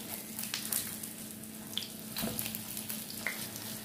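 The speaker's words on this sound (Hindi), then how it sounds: "ये देखें कितने ज़बरदस्त और क्रिस्पी जो है ये फ्राई हो रहे हैं।" Potato tikki kebabs fry crisp in shallow oil, giving a steady close sizzle with light crackles and occasional soft clinks throughout.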